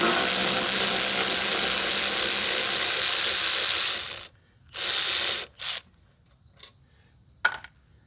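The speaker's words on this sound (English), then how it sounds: "Alright, so let's get this carburetor off." A ratchet clicks rapidly and steadily for about four seconds while loosening the carburetor on a Toro TimeMaster 21199 lawn mower, followed by a couple of shorter ratchet bursts and a few faint taps, close up.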